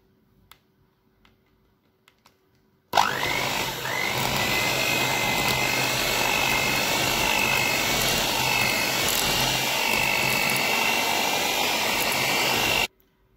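An electric mixer beating butter, margarine and white sugar together for a cake switches on abruptly after a few faint clicks, then whirs loudly and steadily at close range for about ten seconds before cutting off.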